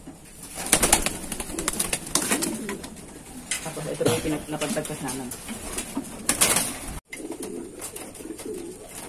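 Pigeons in a backyard loft, including small racing birds, give soft coos under steady conversation from several people close by.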